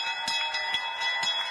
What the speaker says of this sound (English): And there's a bell